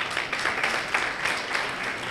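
Audience applause after a poster presentation at an academic session, a soft, steady patter of clapping from a modest crowd, fairly distant and even throughout.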